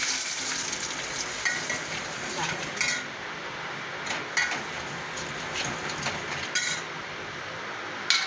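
A spoonful of gram flour roasts in hot oil with cumin, fenugreek, hing and curry leaves, a steady close sizzle broken by several bright utensil scrapes and clinks against the pan, no speech.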